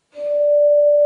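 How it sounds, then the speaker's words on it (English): A single steady sine tone at four-thirds the frequency of A, a perfect fourth up, rises in quickly and sustains cleanly for about a second, alone and without talk. "You get this sound. This is the perfect fourth."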